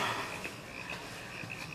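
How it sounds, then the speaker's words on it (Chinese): Frogs croak in a pond at night after a heavy afternoon rain, a faint, continuous chorus of repeated calls with no voices. "就是池塘里的青蛙太吵了，所以有点睡不着。"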